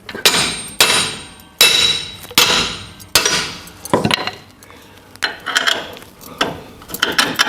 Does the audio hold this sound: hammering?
yes